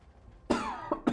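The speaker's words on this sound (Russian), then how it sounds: "Гребаный кашель." A person's cough: a quiet lead-in, then a loud harsh burst followed by two shorter, sharper coughs close to the microphone, with no talk.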